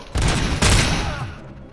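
Gunfire in Robocop: Rogue City, two loud close bursts of shots in quick succession that fade into a short ringing tail, no talk.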